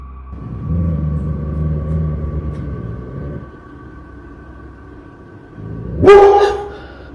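A pet dog barks once, loud and close, near the end of an otherwise quiet indoor scene with a low rumble and steady hum.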